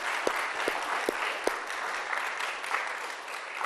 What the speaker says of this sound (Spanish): Correcto, vamos a aplaudirlo